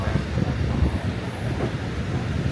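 Royal Gorge train running through a mountain canyon, heard as a steady low rumble of rolling wheels and carriage noise, moderately loud and continuous with faint rattling.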